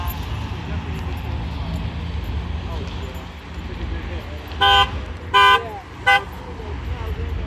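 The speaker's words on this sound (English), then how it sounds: "Got its emergency horn going." Car horn sounding at a roadside stop after a red-light crash, three short loud honks near the end over steady traffic rumble and background noise.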